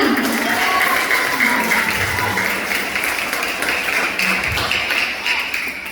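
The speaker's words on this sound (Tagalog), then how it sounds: "Pumalakpak na ang bata." A child claps hands amid a lively gathering, producing steady, dense clapping that fills the space with a continuous patter and no clear pauses.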